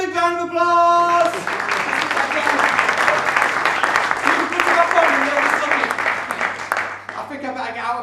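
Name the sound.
audience applause for a magician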